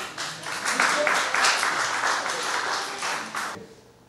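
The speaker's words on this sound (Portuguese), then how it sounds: "Uma salva de palmas para elas, por favor" An audience at a stand-up comedy show breaks into loud, crisp clapping that swells quickly, holds for about three seconds with some crowd voices mixed in, then cuts off abruptly.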